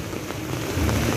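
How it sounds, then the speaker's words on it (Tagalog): Sudden heavy rain hisses steadily on a street by a school on Congress Road, Caloocan, in a dense, continuous wash with no voices. "oh, biglang umulan"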